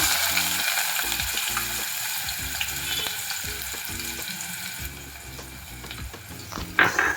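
Chopped onions frying in hot oil with cumin seeds for Uttar Kannada–style dal tadka, a steady close sizzle with intermittent stirring scrapes and a brief louder clatter near the end, no voices.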